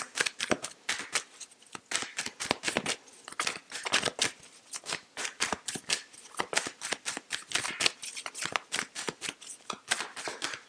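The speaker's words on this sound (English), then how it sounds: "Shuffling these out until the first card flips or falls." Tarot cards being shuffled up close, a steady series of quick, crisp riffling snaps and slides repeating without pause, with no voices.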